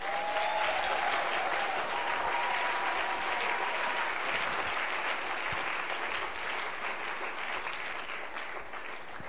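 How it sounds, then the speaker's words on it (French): A church congregation claps and cheers in praise, a steady wash of applause from many hands that holds throughout and fades slightly toward the end. "Est-ce qu'on peut acclamer le Seigneur?"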